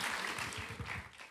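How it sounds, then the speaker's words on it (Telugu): Wedding guests clap together at a ceremony in Jerusalem, a steady wash of hand claps at moderate level, briefly thinning near the end before a louder burst. "అందరూ చప్పట్లు కొడదాం."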